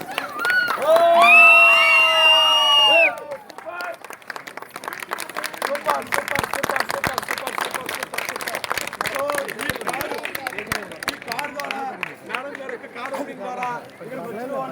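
A crowd cheers, shouts and claps loudly together as a car's cover is pulled off and flowers are thrown, with a brief tonal swell at the start, then steady, dense clapping mixed with many voices.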